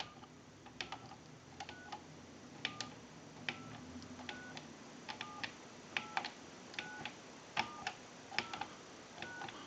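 A Western Electric 2554 wall telephone's rotary dial clicks out rapid pulse trains, short bursts of evenly spaced ticks separated by pauses, crisp and close with no talking.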